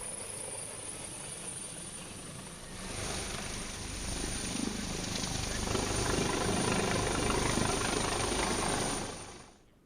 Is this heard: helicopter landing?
yes